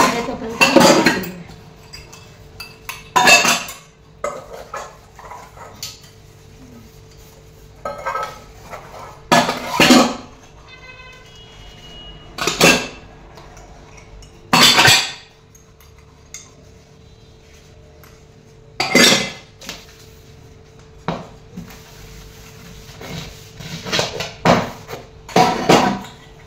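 Dishes and utensils clatter and clink in a home kitchen as they are washed, with scattered bursts of metallic knocking separated by quieter pauses, close by.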